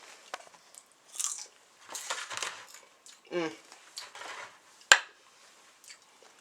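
Crunchy bites of air-popped popcorn tossed with butter, salt and a sprinkle of sugar, heard as several separate close crunches and bites spread through a quiet stretch, with one sharp loud crack near the end.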